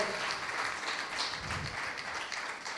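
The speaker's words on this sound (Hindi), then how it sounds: "बहुत जोरदार तालियां होनी चाहिए माननीय प्रधान जी के उद्बोधन के लिए" An audience at a skill development project launch ceremony claps steadily for a speaker, a continuous, fairly even patter of many hands at moderate distance with no voices over it.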